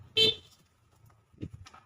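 A short, loud horn toot sounds up close, followed a second later by a softer, briefer beep over quiet background.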